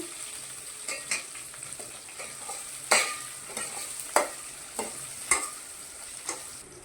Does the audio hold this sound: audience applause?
no